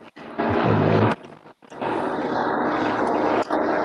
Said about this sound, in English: You got a plane going over you, Rui?